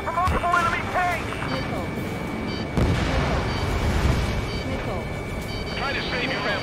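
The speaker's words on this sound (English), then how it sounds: "We're taking fire from multiple enemy tanks." Enemy tank cannons boom repeatedly amid a roaring jet engine in Ace Combat 7, a loud, dense battle din running throughout beneath radio chatter.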